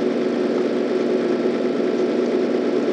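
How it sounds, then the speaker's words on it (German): A tractor engine drones steadily in the Farming Simulator 2013 video game, a constant mid-pitched motor hum with no breaks, heard alone without talk. "So fahre ich hier durch. So fahre ich Traktor."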